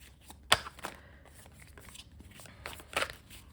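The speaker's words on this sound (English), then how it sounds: "clearly we're shuffling these a million times." Quiet riffling and snapping of tarot cards being shuffled, a few sharp flicks spaced among soft shuffling sounds.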